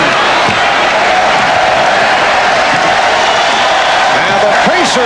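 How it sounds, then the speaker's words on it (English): A basketball arena crowd gives the Indiana Pacers a standing ovation during a 1994 NBA playoff game, a loud, continuous roar of cheering and applause under a commentator's voice. "Another standing ovation for the Indiana Pacers"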